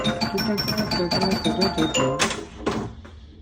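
A pinball machine plays its bright entrance chime, a quick run of ringing electronic tones climbing and overlapping like a racetrack fanfare, ending in a couple of sharp accents that fade out, loud and close.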